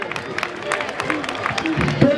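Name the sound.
crowd applauding dressmakers at independence celebration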